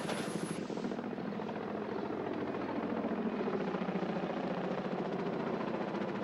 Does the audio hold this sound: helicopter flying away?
yes